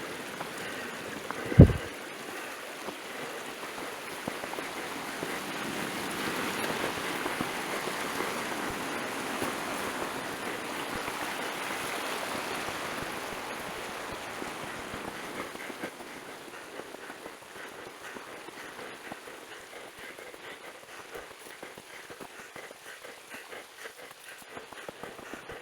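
Water trickles and gurgles from a mountain spring where it comes out of the ground, a soft continuous outdoor flow with faint ambient noise and one sharp knock near the start.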